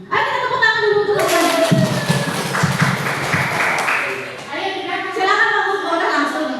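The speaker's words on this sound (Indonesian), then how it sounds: "Ayo kita tepuk tangan dulu terus." A group of people at a school gathering at SMPN 4 Masbagik bursts into hand clapping for several seconds, a dense patter that rises over and then fades back under voices.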